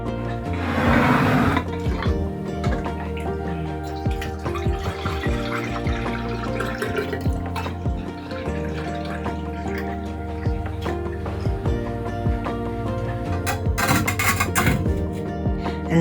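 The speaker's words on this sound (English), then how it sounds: "now it's that time to pour it into a serving jug" A Caribbean-style alcohol-free Christmas sorrel drink is poured into a serving jug. Liquid gushes and splashes steadily, then drips and trickles follow. The pouring is close and continuous, with faint background music underneath.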